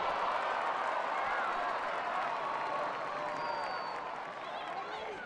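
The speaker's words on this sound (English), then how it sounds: "And applause of relief, I think, going around the stadium" A stadium crowd at a women's field hockey final between Australia and Argentina gives a broad, distant wash of applause and murmuring. It is steady and then eases slightly, with a commentator's voice faintly over it.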